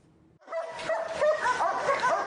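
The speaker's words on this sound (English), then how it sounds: "This 3-year-old German Shepherd is a true fighter, according to his handler" A three-year-old German Shepherd police dog with the Budapest Police K9 unit lets out yelping, whining barks after a short quiet start, close and fairly loud.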